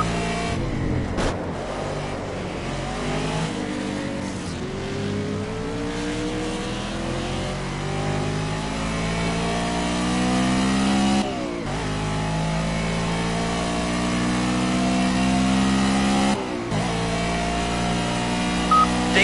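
Race car engines in the Project Cars video game rev hard through rising and falling gear sweeps, loud and continuous, with sharp gear-change breaks and other cars passing close by.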